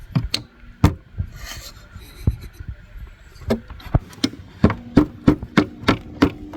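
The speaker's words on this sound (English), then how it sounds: "not a lot of room to swing the hammer" Sharp metallic hammer blows land on ATV engine parts in a cramped space, sparse at first and then in a quicker, steady run of strikes, close and loud.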